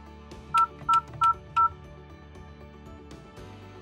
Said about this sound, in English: Enter your 4-digit password when prompted.